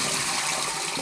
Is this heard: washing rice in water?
yes